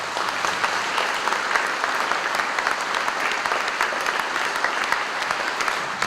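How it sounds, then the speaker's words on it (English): An audience at an elementary school ribbon-cutting ceremony applauds PTA members with dense, steady clapping that holds evenly for several seconds. "A big round of applause for them."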